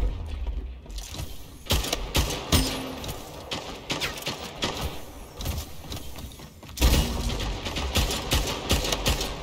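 Sniper rifle shots in the sci-fi arena shooter Splitgate ring out as sharp, loud blasts at about 1.7 and 6.8 seconds, amid a busy mix of game gunfire, clicks and effects.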